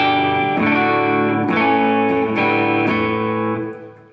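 Distorted Yamaha Revstar RS320 electric guitar strums a few sustained chords with a warm, rounded neck-pickup tone, ringing out and fading at the end.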